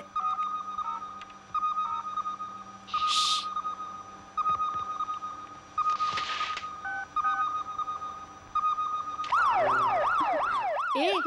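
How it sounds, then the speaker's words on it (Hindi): A fire brigade siren in a Hindi-dubbed action film scene, its wailing tone sweeping up and down near the end over a steady buzzing background, with other brief tones earlier. "ये फायर ब्रिगेड की आवाज है।"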